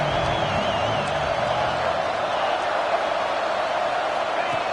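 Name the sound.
stadium crowd noise in College Football 26 video game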